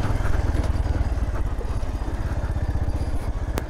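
A motorbike engine chugs steadily at low revs while riding down a rocky mountain road near Chaupha Bazar, Rukum, loud and close, with a rattling clatter and a brief sharp knock near the end.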